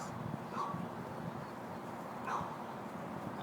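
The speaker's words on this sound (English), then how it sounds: "She's starting to bark at the other dogs." A dog gives two short, faint yips or barks at other dogs, spaced about two seconds apart over a quiet background hum.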